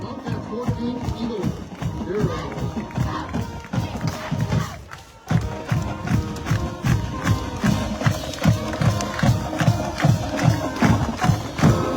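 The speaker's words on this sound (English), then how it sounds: "the Bobcats playing their fight song, and this crowd is excited" The Benson Bobcats high school band plays its fight song at a football game with steady, thumping drum beats and brass, while an excited crowd of alumni and students cheers throughout.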